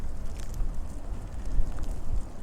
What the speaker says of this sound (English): it's quite windy with the leaves blowing everywhere.